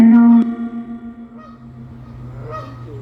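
A Canada goose at a nature reserve lets out a loud honk at the start, followed by softer, more distant calls over quiet outdoor ambience.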